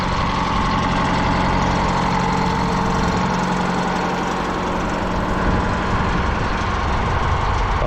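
WWII crawler crane's old Detroit diesel engine idling close by, loud and rough, a continuous heavy rumble with a fast, even pulse throughout.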